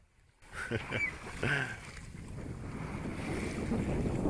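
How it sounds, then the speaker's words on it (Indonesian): Wind blows steadily over a sailboat at sea on a solo Pacific crossing from Hawaii to the Marshall Islands, a constant loud rush against the microphone with water wash beneath and a voice speaking briefly near the start. "Angin lambat bertiup dan langsung dari sana sekarang"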